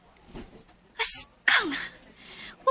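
A person lets out a single sneeze with a short breathy build-up, then a sharp, loud burst, over quiet indoor background.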